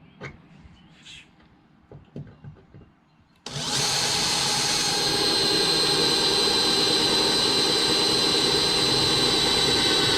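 A power drill bores a hole in the rotted steel mower deck of a Craftsman LT1000 lawn tractor. After a few quiet clicks and handling noises, a loud, steady, high-pitched whine starts abruptly and continues without a break.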